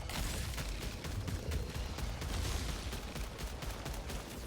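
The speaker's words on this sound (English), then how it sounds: "This dude is like not concerned with my gunfire at all." Dense, rapid gunfire from Returnal rattles continuously in a thick, faint-to-moderate barrage of overlapping shots, with no voice on top.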